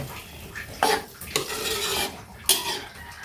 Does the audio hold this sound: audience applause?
no